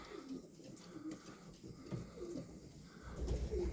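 Racing pigeons coo softly and repeatedly in a loft during breeding season, faint low calls over steady background hum.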